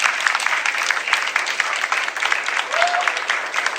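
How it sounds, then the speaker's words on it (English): Audience applause at a county supervisor campaign event: steady crackling clapping from a modest crowd, moderately faint and continuous for several seconds. "So applause is okay."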